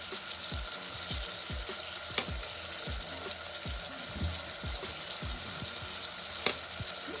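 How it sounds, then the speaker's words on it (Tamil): Mutton liver gravy sizzles and crackles steadily in a hot pan as salt and spices are stirred through, with a spoon scraping the pan in repeated rhythmic strokes and no voices. "இப்போ நல்லா மிக்ஸ் பண்ணிக்கோங்க."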